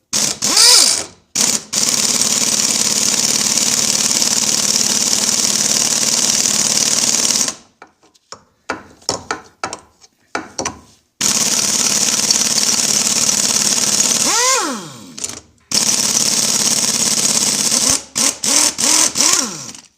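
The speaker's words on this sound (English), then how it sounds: "The impact wrench is great" Loud pneumatic impact wrench removing bolts from the power trim/tilt of an Evinrude XP 175 HP outboard, long sustained hammering runs broken by short pauses and rattles, close and harsh, spinning down between runs.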